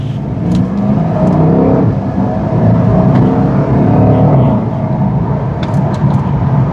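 Steady, smooth engine and road hum inside a 2015 Porsche Panamera Turbo Executive while driving, a continuous low whir with no pauses and no talking.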